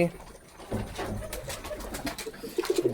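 Pigeons in a loft coo faintly while someone talks over them, and a few clear, close coos come at the very end.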